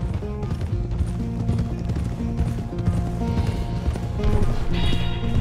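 Horse hooves clip-clop in the Western video game Red Dead Redemption 2, a steady walking rhythm of hoofbeats laid over tonal game music, fairly loud and close, with no voices.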